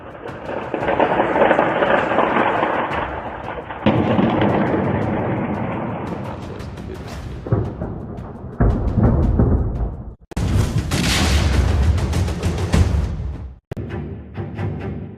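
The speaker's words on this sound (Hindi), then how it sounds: "राजधानी कीव में मेट्रो के पास एकाएक कई धमाके। धमाके की आवाज से गूंज उठा शहर।" Heavy blasts and deep rumbling roar in loud, abrupt bursts near a metro station in Kyiv during the Russia-Ukraine war, booming one after another with sudden breaks between them.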